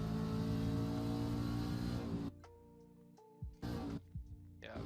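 A race car engine in the iRacing sim holds a loud, steady drone for about two seconds, then drops away to a low idle-like hum, with a couple of brief throttle blips near the end.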